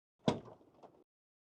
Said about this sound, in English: when the door is opening, it stays right up against the car